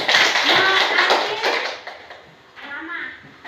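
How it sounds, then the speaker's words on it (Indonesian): Classroom clapping for a student, a burst of quick, rhythmic claps from a group of children that fades after a second or so, with kids' voices chattering underneath and a brief return of sound near the end. "Tepuk tangan untuk Anton dulu."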